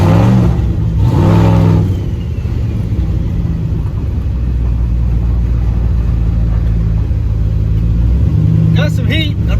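A turbo LS engine in a custom van build revs hard, a loud, close, deep rumble swelling and settling over several seconds, with a brief whir and the throttle lifting near the end.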